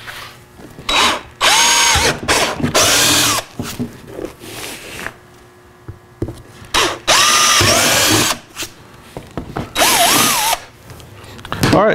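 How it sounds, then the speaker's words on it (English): A power drill bores holes into a rear door storage panel for a Toyota FJ Cruiser, sounding as several loud, close whirring bursts of one to two seconds each, separated by short quiet gaps. "let's drill some holes"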